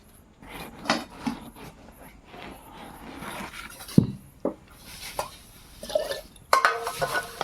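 A pot of cooked jaggery (gur), done to a sticky consistency, is lifted off a stove in a village kitchen, with scattered metallic clanks, scrapes and knocks of the pot and utensils, one sharp knock standing out.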